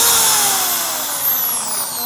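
A power drill runs continuously with a high, steady whine as it bores through existing holes in a piece of wood. The pitch shifts slightly as the bit works, and no voices are heard.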